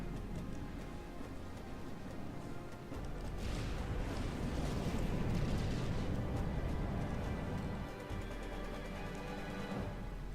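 Ships self-destructing in the naval combat game From The Depths set off a dense, continuous rumble of overlapping explosions and crackling bursts, swelling louder in the middle before easing slightly.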